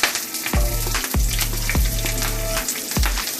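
Onions frying in hot oil with curry leaves in a pan over a medium flame, a steady close sizzle broken by a few sharp clanks of a spoon against the pan.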